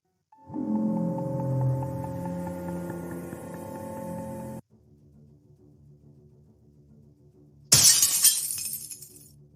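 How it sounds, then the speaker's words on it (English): Glass shatters in one sudden loud crash, then bright fragments scatter and ring down. It follows several seconds of droning, humming tones and a quieter low hum. "I have to break this glass"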